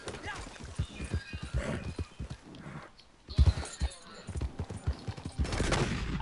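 Horse hooves clip-clop at a gallop in a multiplayer western shooter video game, mixed with bursts of gunfire and occasional whinnies while players talk over the action.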